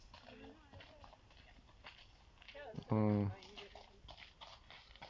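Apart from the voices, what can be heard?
horse hooves clip-clopping as it passes by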